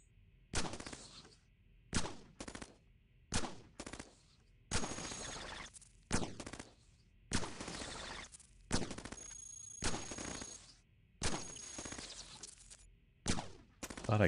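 A shotgun fires again and again in the robot game Cogmind. About a dozen sharp, loud blasts come in a steady, evenly spaced rhythm, with near silence between them and no talk.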